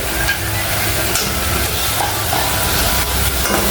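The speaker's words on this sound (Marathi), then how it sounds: "आता तो मसाला आपल्याला चांगला तळून घ्यायचा आहे" Masala spices fry in a pan for a green moth bean usal, giving a continuous close crackling sizzle with soft scraping from stirring throughout.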